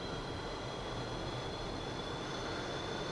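An F/A-18E jet in a VR flight simulator roars with steady, dense engine noise as the throttle advances, loud and continuous with a faint high whine on top.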